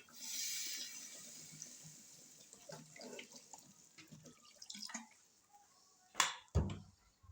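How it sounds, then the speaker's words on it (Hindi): Water pours into a cooking pot of lentil wadiyan, a rushing stream that fades and trickles in bursts, followed by two loud splashing pours near the end, with no speech. "अब इसमें हम पानी डालेंगे।"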